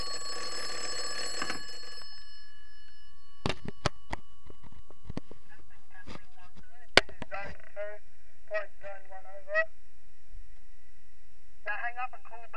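A PMG magneto telephone intercom system rings in short buzzing bell bursts, three separate rings near the end, after earlier scattered knocks and clatter in a quiet room.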